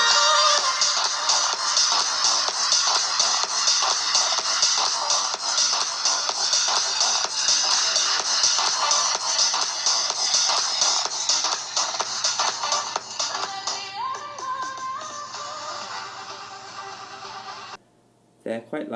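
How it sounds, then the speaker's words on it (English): Music plays from the stereo speakers of a Google Pixel C tablet, filling the room at a dense, fairly loud level. The sound stays continuous for most of the clip, then briefly cuts out near the end. "And the speakers, I'll have an audio demonstration."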